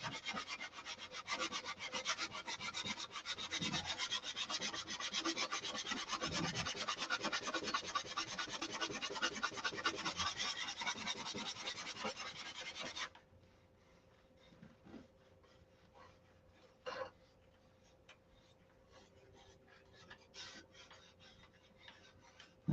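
Rapid, rasping strokes of a long sanding block work the trailing edge of a Viper model aircraft, dense and continuous for about thirteen seconds, then stop, leaving only faint scattered scrapes and taps.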